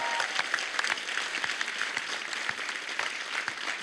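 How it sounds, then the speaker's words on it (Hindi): A television comedy show audience breaks into lively applause, a crisp crackle of many hands clapping at moderate distance with small surges, alone and free of talk. "जोरदार तालियां बनती हैं इससे।"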